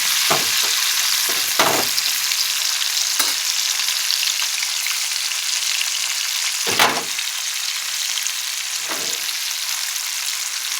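Fish frying in a frying pan, a broad steady sizzle filling the whole stretch with occasional clinks and stirring knocks from the pan, close and fairly loud, with no talking.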